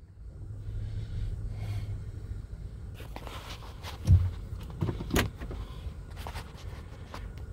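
Someone locks a rural driveway gate with keys next to an idling car: a low engine rumble runs throughout, with metallic clanks and key jingles close by in the middle.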